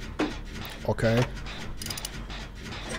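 A generator being repaired in the horror video game Dead by Daylight gives off continuous mechanical clicking and ratcheting, with a brief voice breaking in near the start.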